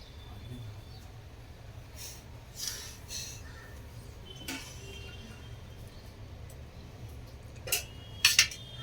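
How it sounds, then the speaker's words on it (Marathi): Knife spreading butter on one side of a dahi sandwich, heard as soft, quiet scraping strokes with a couple of light utensil clinks near the end. "एका साईडला फक्त बटर लावून घ्यायचं आहे."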